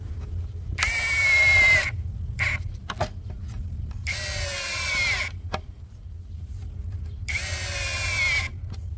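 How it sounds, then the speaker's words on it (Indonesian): A DCK KDPL03-14 cordless brushless impact driver drives small screws in three whirring bursts of about a second each, with short clicks and trigger pulses between them, close and fairly loud. "Ya karena ini memang drill impact driver, jadi untuk skrup-skrup kecil seperti ini masih enak ya"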